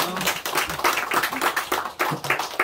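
A church congregation claps in praise during a Sunday morning worship service, a series of fairly close, loud, uneven bursts of hand claps with a slight rhythmic pulse.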